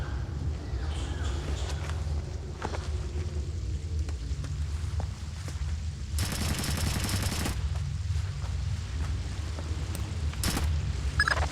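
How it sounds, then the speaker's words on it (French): Sharp bursts of gunfire in the video game Tom Clancy's Splinter Cell: Chaos Theory ring out over a low ambient rumble, one long rapid volley in the middle and a shorter burst near the end. "J'ai entendu un coup de feu, Fisher."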